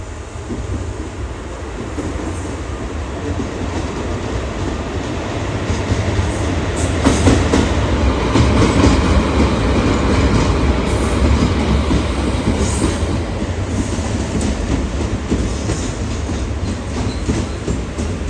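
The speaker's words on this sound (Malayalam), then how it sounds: "ഈ വണ്ടി കോഴിക്കോട് നിന്ന് പാലക്കാട് പോകുന്നൊരു ഈയിടെ തുടങ്ങിയ ഒരു അൺറിസർവ്ഡ് ഫുള്ളി ജനറൽ മാത്രമുള്ളൊരു പാസഞ്ചർ ട്രെയിനാണ്" An unreserved all-general passenger train from Kozhikode to Palakkad rolls past Ottapalam station, with a continuous loud, close rumble and wheel clatter lasting throughout.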